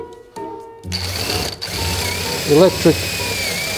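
An electric drill bores through wood while a Scandinavian-style wooden lamp is built, its motor kicking in with a steady close whine and whir, with a voice heard briefly over it.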